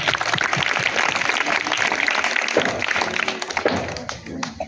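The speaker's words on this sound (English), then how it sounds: "Clap for them." An audience claps for a quiz team at a quiz event, with dense, steady applause close by that thins out toward the end, and voices can be heard faintly underneath.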